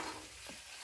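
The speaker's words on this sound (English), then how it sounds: "frying up some potatoes" Potatoes sizzle and crackle in a pan in a home kitchen, a quiet, even hiss with a light stir.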